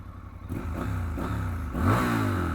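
A 2021 Triumph Scrambler 1200 XE, a 1200cc twin, revs at close range. The engine note rises in a few throttle blips and then climbs into a stronger rev near the end, with no talk.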